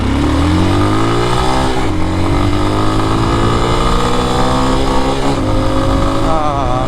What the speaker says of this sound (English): Maybe we'll do a 0 to 60 on this road up here.